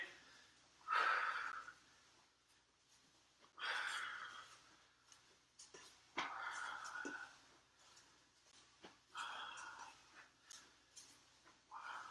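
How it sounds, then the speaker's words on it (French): During an Aiki Ju Jitsu exercise, a person releases a series of forceful, breathy exhales spaced a few seconds apart, each a short rushing puff, close and fairly quiet. "On expire bien."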